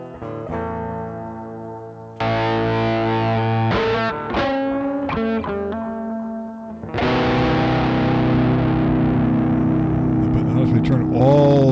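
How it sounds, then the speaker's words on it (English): An electric guitar played live through several distortion pedals engaged at once, giving loud, saturated, buzzing chords and held notes that ring out, stop, and restart with a long sustained wash near the end. "turn all the distortion pedals on at once."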